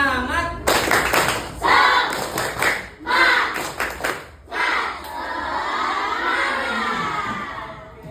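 A fifth-grade class doing the rhythmic 'tepuk semangat' clapping routine, children clapping in unison patterns and shouting together in bursts, followed by excited chatter.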